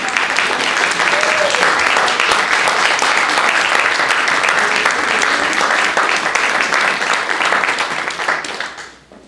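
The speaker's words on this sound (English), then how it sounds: "Will the jury please rise for a well-deserved round of applause?" Loud, sustained audience applause at a book awards ceremony honours the rising jury, with dense clapping throughout that fades out at the very end.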